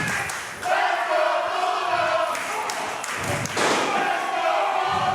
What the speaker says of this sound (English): This crowd is absolutely losing their mind.